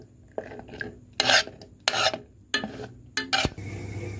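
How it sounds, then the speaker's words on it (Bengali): Fried gaja pastries dipped one at a time into sugar syrup, with several loud wet scraping and clinking bursts of a utensil against the pan, separated by short quiet pauses. "একটা করে গজা আমি চিনির রসে দেব, দিয়ে ভালো করে ডুবিয়ে নেব।"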